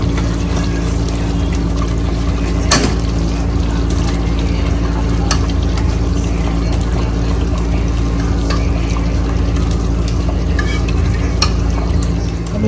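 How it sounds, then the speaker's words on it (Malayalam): Paneer is stirred into simmering masala in a pan, a steady bubbling sizzle with scattered scrapes and clicks from the spoon, continuous and fairly loud with no talk. "നമ്മൾ കുറച്ച് മിക്സ് ചെയ്ത് കൊടുക്കുന്നു"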